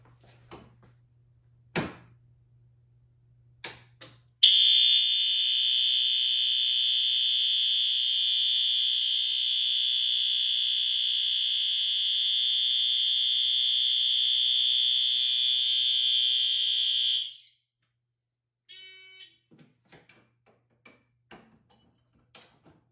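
A fire alarm horn strobe blares one steady, piercing electronic tone for about thirteen seconds, loud and close, with scattered clicks and handling knocks before and a brief chirp after it cuts off.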